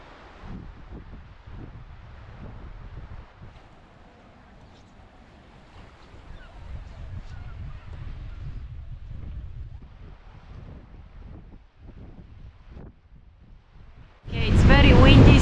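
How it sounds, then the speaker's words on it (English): Steady wind on a beach at Skerries roars and buffets the microphone in a low rumble, then a sudden loud gust blasts across it at the very end. "it's very windy"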